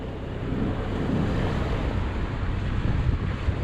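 Steady, loud wind rushes across the microphone on a sailboat under a flapping genoa in about 10 to 12 knots of wind with whitecaps, and water washing against the hull is mixed in as a continuous roar.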